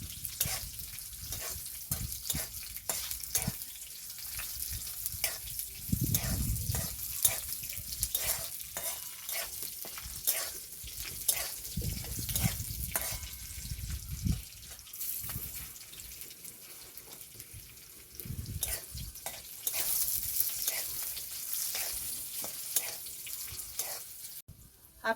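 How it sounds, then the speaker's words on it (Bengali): Whole cumin seeds frying in oil for a cucumber and mung dal, a continuous crackling sizzle with intermittent stirring scrapes and brief bursts of running tap water, steady and close throughout. "এখানে আছে গোটা জিরে। ভালো করে কিছুক্ষণ ভেজে নেব।"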